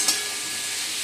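Pointed gourd and other vegetables fry in hot oil in a Bengali home kitchen, a steady loud sizzle and hiss with a brief scrape of stirring near the start.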